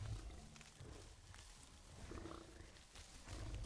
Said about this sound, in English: Wait, no, that's a boar,